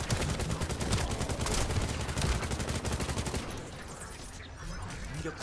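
Rapid video-game gunfire from shooting turrets in The First Descendant on PC, a dense continuous burst of shots that stays loud for most of the moment, then thins out slightly toward the end.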